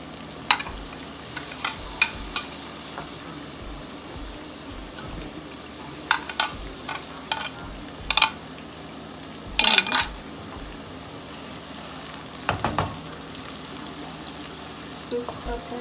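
Tomatoes frying in a pan with ginger-garlic powder, a steady sizzle with a spatula stirring and scraping at intervals, plus a few sharp clinks of utensil against the pan.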